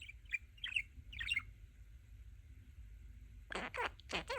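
A pet budgie (parakeet) chirps several times in quick bright tweets near a window, then pauses before a louder burst of squawky chatter at the end; no human voice.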